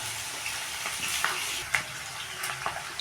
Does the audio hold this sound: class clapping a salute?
no